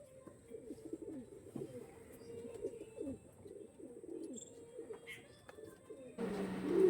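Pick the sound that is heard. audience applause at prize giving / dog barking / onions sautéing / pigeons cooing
pigeons cooing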